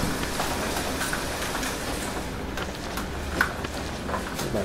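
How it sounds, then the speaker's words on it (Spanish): Heavy rain pours outside a house, a thick constant wash of noise with scattered faint drips and knocks, heard from indoors near a window. "Está lloviendo muy fuerte en mi casa y si lo que escucháis ahora es la lluvia."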